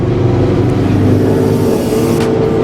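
Several cars, a BMW M4, a Mercedes ML AMG and a 10-speed Mustang, accelerating hard together from a standing start in a drag race, a loud, steady engine roar that holds throughout without a break.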